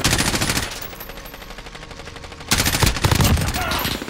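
Rapid automatic gunfire in Call of Duty multiplayer, with a burst of fire, a short pause, then a second loud, sustained burst with heavy impacts.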